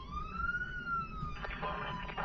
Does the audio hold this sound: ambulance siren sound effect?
yes